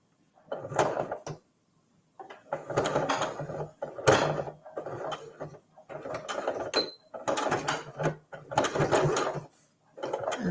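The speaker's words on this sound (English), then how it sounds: "stitch across the short end, and then pivot and stitch this open edge to close it up" A sewing machine stitches fabric for a mug cozy in close, loud whirring bursts separated by short pauses, roughly seven runs with mechanical clicks between them.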